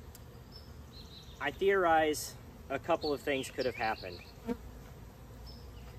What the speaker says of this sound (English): we've got a giant ball of bees underneath this hive.